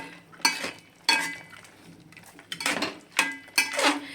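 A spoon scrapes and clinks in a pan in several separate strokes as carrot halwa is stirred, with a faint background hum.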